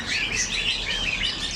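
Small caged birds in a bird shop chirp and tweet in a dense, continuous chorus, bright and close, with no talking.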